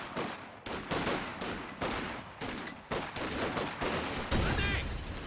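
MG34 machine gun fire in the World War II strategy game Company of Heroes 2, a rapid run of loud, sharp bursts in quick succession, with other battle noise mixed in.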